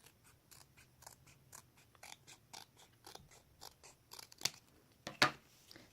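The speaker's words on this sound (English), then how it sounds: "Cut those out." Scissors snip through paper while cutting out pieces for a handmade gift box: faint, sparse clicks early on, then a couple of sharper, closer snips near the end, with no talking.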